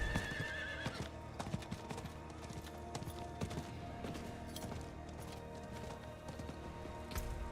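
Hooves clip-clop rhythmically at a galloping pace under game music while a horse neighs, mounted travel in Diablo 4 with sharp effect hits scattered through.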